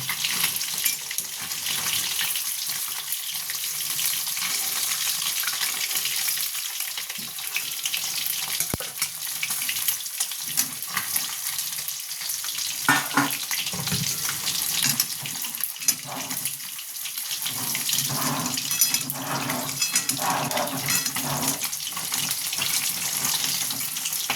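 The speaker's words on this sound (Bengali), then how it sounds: "আর এক পিঠ ভাজা হয়ে যাক" Fish frying in a pan for a Bengali sol fish curry, a steady close sizzle with crackling bursts and faint clinks, continuing without talk throughout.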